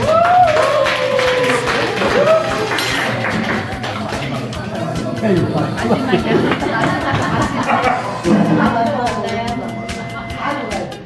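Members of a hiking club applaud the senior vice president at an outdoor gathering, scattered clapping rising alongside crowd chatter and a speaker's voice, growing livelier toward the end.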